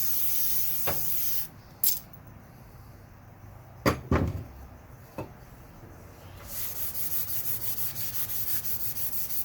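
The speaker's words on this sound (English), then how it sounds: "You just aggressively scrub it until the surface rust has disappeared." A Scotch-Brite pad with WD-40 rubs hard over a lathe's rusty metal surface, a short spray hiss and a few knocks followed by steady rhythmic scrubbing strokes, close and unaccompanied by talk.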